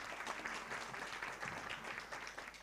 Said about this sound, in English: let's give a very big round of applause to all the